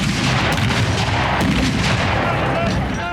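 Artillery cannon fire at a battle, a dense, continuous roar of booms and blasts with rumbling low end, loud and sustained throughout, with faint voices mixed in.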